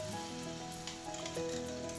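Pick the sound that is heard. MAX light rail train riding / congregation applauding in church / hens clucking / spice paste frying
spice paste frying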